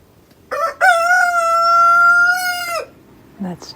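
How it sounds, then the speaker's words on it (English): A backyard rooster crows once, a loud near cock-a-doodle-doo with a long sustained middle, followed by a brief softer call. "I know my chickens so well that I know who is crowing or making a specific sound."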